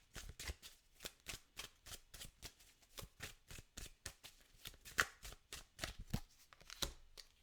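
Tarot cards shuffled by hand in a rapid, even rhythm of soft riffling bursts, about two to three per second, close and quiet with no talking.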